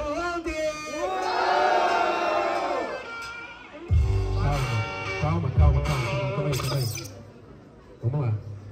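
Crowd at a Brazilian rap battle in the Batalha da Leste series yells and cheers in loud bursts, rising several times over a host's amplified voice.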